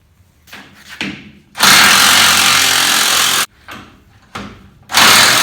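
An air impact tool on a 1967–72 Chevy truck works nuts off a rusty rear shock bracket, sounding loud, sustained rattling bursts of a couple of seconds split by short revving starts and pauses.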